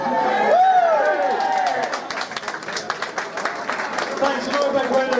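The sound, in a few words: audience applause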